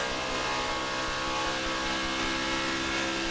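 Onboard race car engine at the 2009 Stater Bros 300, a loud, steady high-revving roar held close and continuous with no talk over it.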